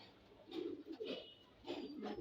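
Pigeons in a pigeon house, giving several soft, close coos in short rising bursts with brief pauses between.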